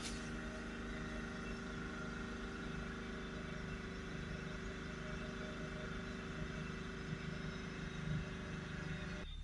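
A BMW X5 E70 with a 3.0-litre diesel engine idles steadily and settles down, producing a constant low rumble and hum with no speech over it.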